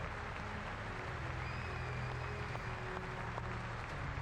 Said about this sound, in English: I hope that everybody's clapping for real